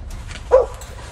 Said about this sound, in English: a dog nearby the man filming starts barking